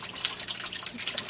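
Water falls from a sculpture onto a fluorite piece and into a pool below, giving a steady close splashing and trickling with bright dripping accents throughout.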